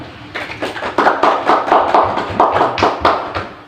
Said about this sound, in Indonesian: terima kasih kelompok 1, tepuk tangan